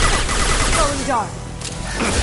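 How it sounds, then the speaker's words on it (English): Rapid gunfire in Mass Effect Legendary Edition, a dense stream of close, loud shots with a brief lull midway, mixed with other game sounds. "I'm shooting the bad guys"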